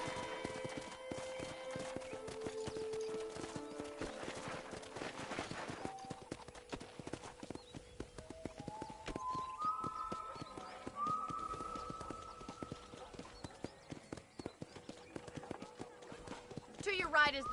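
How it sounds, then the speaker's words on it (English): Horse hooves clip-clopping in a steady riding rhythm in the Red Dead Redemption video game, quiet and continuous, with speech and soft musical tones over the hoofbeats. "let's see if you can still ride a horse"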